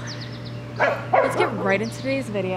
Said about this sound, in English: Can you stop barking, please?